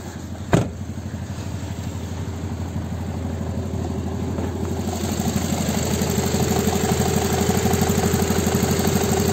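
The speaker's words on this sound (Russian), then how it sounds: "Мотор сухой, не стучит." A 2007 Audi A3 with a 2.0-litre engine and automatic gearbox idles cold after a wash, a steady rumbling drone with a muffler fault, one sharp knock near the start, then the engine note swelling slightly toward the end.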